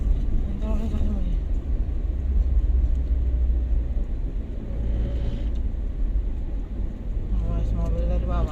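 Steady low vehicle rumble on a sharply winding mountain road between Mamuju and Makassar, an approaching car blending into the engine drone, with people talking over it throughout.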